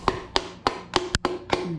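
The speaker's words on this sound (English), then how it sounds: "let me give it a little tappy tap." A hammer taps an engine part while a connecting rod is being fitted, giving six sharp, evenly spaced metallic strikes about a quarter second apart, close and clear with no talking.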